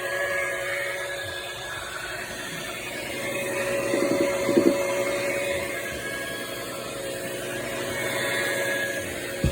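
A professional cleaning vacuum draws water out of a water-damaged wet carpet, its motor droning steadily and close for the whole stretch, with a faint mechanical whine and brief rattles midway and no talking.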